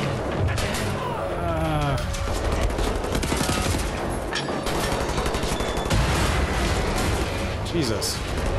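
Gunfire in the video game Wolfenstein: The New Order comes as rapid bursts of automatic fire and sharp shots with booming impacts, loud and nearly continuous. Someone talks over the action.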